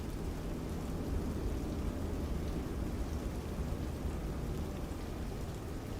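Rain falls during a night flight in a flight simulator game aboard a BlackSquare Caravan Pro, giving a soft, steady, even hiss that holds throughout with no talk.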